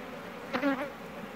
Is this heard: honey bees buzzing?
yes